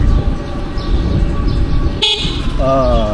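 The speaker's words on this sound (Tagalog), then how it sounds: "Galing ng busina." A horn honks amid steady traffic rumble in the Philippines, a short sharp blast followed by a wavering tone near the end.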